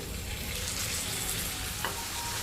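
Boiled potatoes and tamarind chutney are stirred into cooked masala in a hot pan for dabeli, giving a continuous close sizzle and frying hiss with a faint scrape of the spoon.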